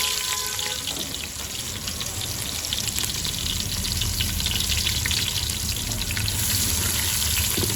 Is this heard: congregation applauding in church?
no